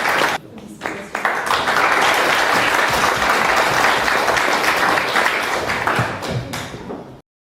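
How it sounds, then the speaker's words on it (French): An audience at a year-end show applauds with loud, dense, sustained clapping that fills the room for several seconds and then stops abruptly. "On peut l'applaudir."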